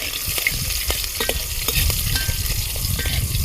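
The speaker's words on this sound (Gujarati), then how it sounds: "વઘાર તો કરવો પડે મસ્તનો." Cumin, asafoetida and green chillies sizzle in hot oil in a pan, a steady close frying hiss with repeated scraping taps as the tempering is stirred, and no voices.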